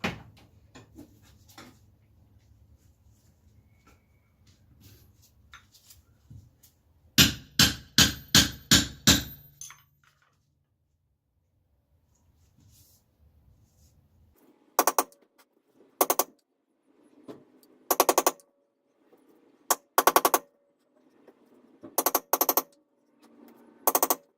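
Metal hammer taps on a mushroomed strut tower bearing being knocked into alignment: a quick run of about seven sharp close strikes, a pause, then scattered single and paired hits, with quiet handling noise between.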